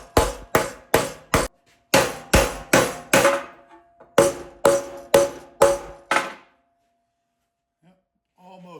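Metal being shaped into a trident rings under a rapid series of about fifteen sharp, close hammer strikes in quick even bursts, each with a metallic ring, before falling silent.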